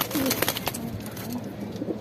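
A newly acquired pigeon cooing close by, with a few soft, throaty coos over a steady background hum.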